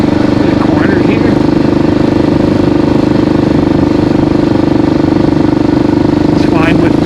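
Kawasaki KLR650 adventure motorcycle cruising at steady road speed, its single-cylinder engine droning loud and constant with rushing wind noise throughout, with no one speaking.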